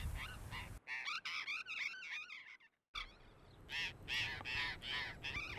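A flock of burrowing parrots in Patagonia, massed on telegraph wires near a remote Atlantic coast lighthouse, gives loud harsh squawking calls in dense repeated bursts, with a brief pause before the chorus resumes.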